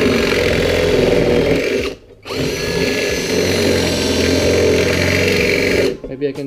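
Power drill boring holes through the body panels of a BMW E46 during a widebody build, a loud sustained whine with a brief break near two seconds before resuming, then trailing off at the end.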